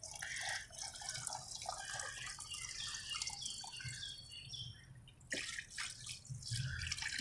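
Water poured onto dry flower pots, a continuous splashing and trickling that shifts as the stream moves, with a brief break before it resumes; a faint bird is audible in the background.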